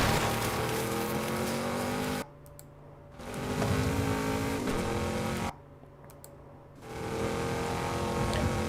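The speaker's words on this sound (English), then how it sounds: "Gets into a Porsche Cayenne." Engine of a Porsche Cayenne in a racing video game, a loud continuous drone with rising revs, twice cut to near-silence for about a second before the engine roar returns.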